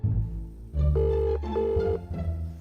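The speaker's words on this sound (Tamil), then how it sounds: "ஏன் ஃபோன் அட்டென்ட் பண்ண மாட்டேன்றான்?" A telephone rings unanswered, two clear electronic ring tones back to back, loud and close, with no talking over them.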